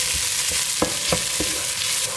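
Frozen garlic sizzles in a hot pan with a constant bright frying hiss, punctuated by a few sharp scrapes and taps of a spoon stirring it.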